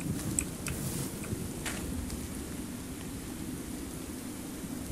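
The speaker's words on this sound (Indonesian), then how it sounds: "Eh, suara angin ya." Steady breathy wind in Minecraft rushes as a faint, even hiss with a low rumble and a few soft ticks on top.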